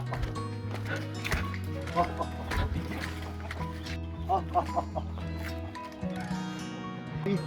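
Backyard chickens in a village cluck softly in a busy yard amid steady low background noise, with scattered short calls from several birds nearby, gathered for a treat.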